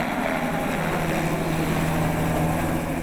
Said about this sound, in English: The sounds of hard work and chopper blades